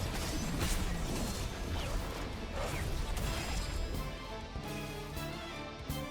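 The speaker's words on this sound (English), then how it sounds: "She pulls out an entire mech" Mech attack in the Anime Vanguards video game: a dense, loud wash of clanking mechanical hits, crashes and whooshes that runs steadily for about six seconds with no talking.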